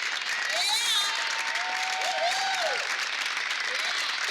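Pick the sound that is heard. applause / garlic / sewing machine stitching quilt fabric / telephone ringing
applause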